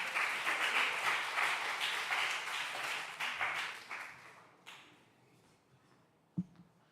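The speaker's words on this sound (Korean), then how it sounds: "나오실 때 큰 박수 부탁드립니다" Applause from a young adults' church Sunday service crowd, loud and full at first, then thinning into scattered claps and fading to near silence with a final knock.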